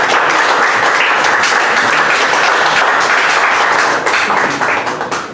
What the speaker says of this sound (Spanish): Un aplauso para Gerald Rodríguez.